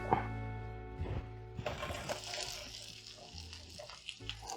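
Shallots sizzling in melted butter in a pan for French bread pizza, a soft steady frying hiss with faint stirring clicks and a low background hum.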